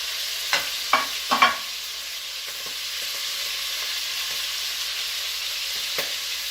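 Beef pieces for bourguignon sear in a hot pan with a steady close sizzle, broken by a few scraping clatters as the meat is stirred and turned.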